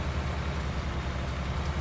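Steady rain falls throughout in a farming simulator game, a dense even hiss of raindrops on surfaces with a low rumble beneath, constant and fairly loud with no talk.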